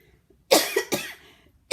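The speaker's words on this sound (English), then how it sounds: "I'm coughing. Excuse me." Three sharp, close coughs in quick succession, the first two grouped together and the last after a short pause, with near silence around them.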